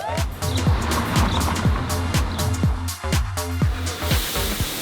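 Trucks drive off together with a steady engine roar, while a quick run of repeated thumps and knocks rides on top, loud and continuous, with no talking.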